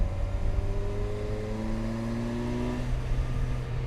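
Kawasaki Versys 1000 SE motorcycle, 2019 model, revving hard in sports mode, the engine note holding steady and climbing toward the rev limiter with a continuous close, loud drone and no talk.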